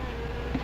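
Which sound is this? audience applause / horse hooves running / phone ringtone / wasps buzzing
wasps buzzing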